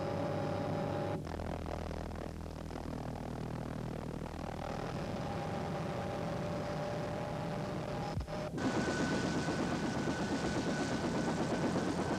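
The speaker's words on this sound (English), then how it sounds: "all local helicopters were seconded by the police to help with the rescue work" Helicopters working a flood rescue during the 1986 South Canterbury flood, a steady distant rotor and engine drone that shifts partway through, then grows louder and harsher toward the end, with no talking.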